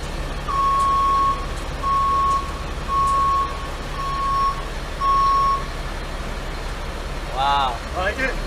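Heavy-duty truck reversing beeps, five evenly spaced steady electronic tones about a second apart, loud over an idling engine rumble, followed by brief voices.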